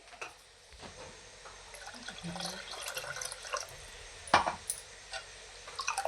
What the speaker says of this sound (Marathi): ह्याच्यात मी थोडं आणखीन पाणी टाकत आहे